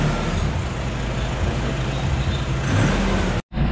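A Nissan Navara engine idling steadily with a custom exhaust, a constant low droning rumble close by, cutting off briefly near the end.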